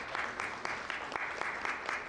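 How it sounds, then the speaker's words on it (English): Applause from an audience welcoming a caregiver at the launch of national clinical guidelines for common mental disorders, a steady patter of many hands clapping, moderately distant and even throughout. "Let's welcome her with a lot of applause."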